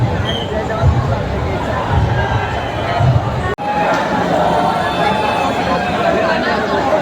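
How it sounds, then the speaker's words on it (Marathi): Dense crowd hubbub at a Ganpati arrival procession in Chinchpokli, Mumbai, a continuous loud wash of many voices with steady background din and a brief dropout midway. "गर्दी काही कमी होत नाहीये"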